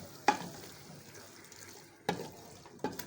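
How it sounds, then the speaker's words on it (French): A simmering dish is stirred in a pan, with three faint, brief scraping strokes spaced apart over a low, quiet sizzle. "vous tournez et vous laissez mijoter"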